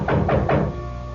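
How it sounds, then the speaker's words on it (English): Three dull, evenly spaced knocks on a door from a CBS Radio Mystery Theater drama, heard against a steady hum with no talk over them. "I heard this rapping at the door."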